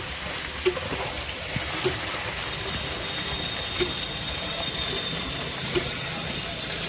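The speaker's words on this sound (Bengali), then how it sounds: "মাংস সেদ্ধ করে রাখা যে জলটা ছিল সেটাই দিয়ে দিলাম" Meat stock water from boiled mutton poured into a hot pot of village-style mutton curry, a steady broadband gushing rush that runs throughout at moderate level, with a few faint clinks over it.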